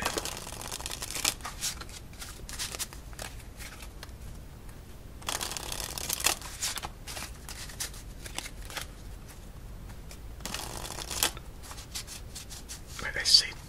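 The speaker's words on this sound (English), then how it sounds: "Might I say two more shuffles and then we're about ready to begin." A Red Hypnosis playing card deck is shuffled in repeated bursts, each a brisk riffle of cards separated by softer handling and quiet pauses, close and intimate, with a soft voice at times.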